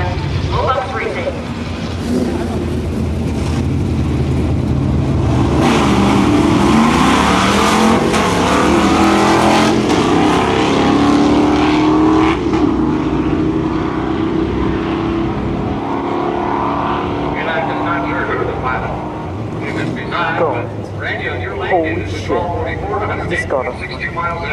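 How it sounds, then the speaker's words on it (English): A 1970 Dodge Challenger drag racing down the lane at a strip: a loud engine roar builds and rises in pitch as it pulls away, with crowd chatter and an announcer's voice over it. "Rolling up on the VP race lane, that is White Twig out of Martinsville, driving the 1970 Dodge Challenger"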